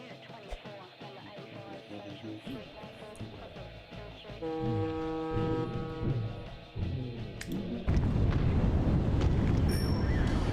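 Video game bombing run with deep rumbling explosions that build and swell, ending in a loud sustained roar of blasts over a dense mix of game noise.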